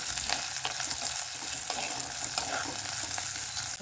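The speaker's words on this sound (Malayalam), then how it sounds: "നല്ലതായിട്ടൊന്ന് വരട്ടി കൊടുക്കാം." Green chillies and tomato sautéing in a pan for a fish curry, a dense continuous close sizzle with occasional stirring scrapes and no voices.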